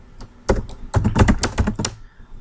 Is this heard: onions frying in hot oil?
no